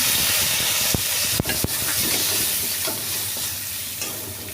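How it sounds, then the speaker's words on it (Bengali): Pointed gourd sautéed in a pan with salt and chopped chillies, a loud continuous frying hiss and sizzle broken by a few sharp clacks of a stirring utensil against the pan. "স্বাদ মতন লবণ দিয়ে এটা একটুখানি কষিয়ে নিচ্ছি"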